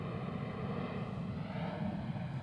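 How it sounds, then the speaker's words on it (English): A massive airplane passes low overhead near a soccer field broadcast booth, a steady broadband roar of engine noise filling the whole stretch without a break. "Ladies and gentlemen, there's a massive plane overhead."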